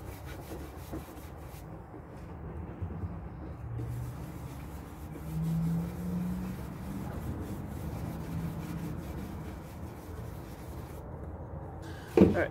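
Soft, continuous rubbing of a rag working black wax over an upcycled wooden sign with a chicken egg stencil, faint and close, with a sharper knock near the end.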